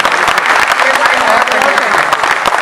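Loud, dense applause from the audience at a Hindi comic poetry gathering, many hands clapping rapidly and steadily throughout, with some crowd noise mixed in.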